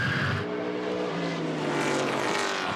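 Trans Am race car heard onboard at Lime Rock Park, its engine roaring loud and continuous with a shifting pitch as it accelerates through the turns.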